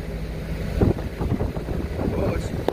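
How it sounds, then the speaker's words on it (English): Buffeting wind rumbles across the microphone in uneven gusts at an oilfield welding site in Douglas, Wyoming, a low roaring blur with a few brief knocks and faint talk mixed in. "It's windy out here, guys."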